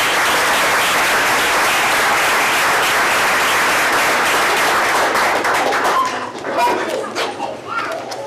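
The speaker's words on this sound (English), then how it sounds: "Let's give them another round of applause." Audience at a school board meeting gives a loud, sustained round of applause that cuts off abruptly near the end, leaving a few scattered claps and murmuring voices.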